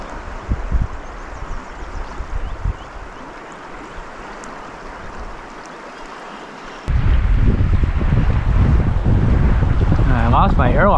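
Strong wind buffets the microphone outdoors beside the water during fly fishing, a steady rushing roar that jumps sharply louder and heavier partway through and stays loud to the end.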